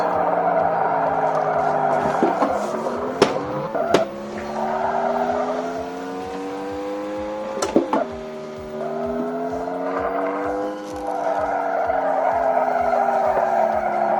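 Race car in the arcade game Race Drivin' with a steady engine drone that dips and rises as it spins out into a guardrail, with sharp impact clicks and tire noise partway through.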